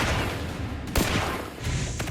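An M249 light machine gun fires a few short, sharp bursts, a loud crack about halfway through and quicker ones near the end, over a rough background rumble.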